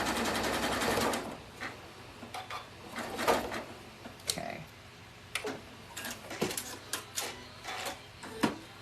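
A sewing machine zigzag-stitches across a clothesline coaster in a plus-sign pattern, running in bursts of rapid mechanical ticking with short pauses between runs, close and fairly steady.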